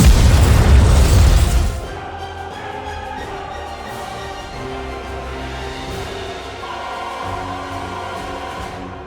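The Eden Spear weapon fires in the NIKKE game with one massive, loud explosive boom that fades into a lingering rumble under swelling orchestral music.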